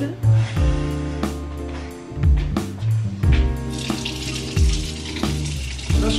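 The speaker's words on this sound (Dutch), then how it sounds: "Dus die ga ik even onder het water houden." Water runs from a bathroom tap over a lip roller being rinsed, a close splashing stream in uneven bursts, partly mixed with background music.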